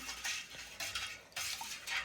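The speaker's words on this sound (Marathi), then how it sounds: "थोडीशी साखर राहिली याच्यातली विगरायची" A spoon clinks and scrapes against the inside of a vessel, stirring sugar into cold water for sherbet in a few quick strokes, close and fairly quiet.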